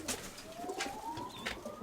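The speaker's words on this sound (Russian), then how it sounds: "я взял вот только одну голубя" Pigeons coo softly in the background among a few faint scattered clicks and rustles, with a quiet gliding tone running under them and no talk.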